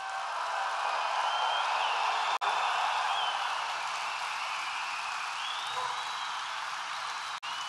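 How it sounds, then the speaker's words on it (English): A large crowd in a convention hall at an NRA convention keeps up a sustained, even round of applause for veterans, heard from a distance, with two brief dropouts in the sound. "we want to give them a big, big, beautiful round of applause"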